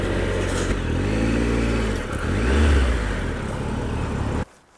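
A motorcycle engine runs steadily close by, dipping and briefly revving as the bike is parked, then cuts out abruptly near the end, leaving quiet.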